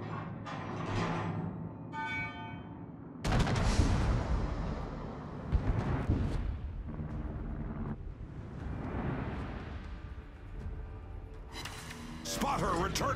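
Battleship Montana fires its naval guns on the Sleeping Giant map in World of Warships; heavy booming blasts and rumbling bursts come and go amid wind-like noise, with voices heard in places.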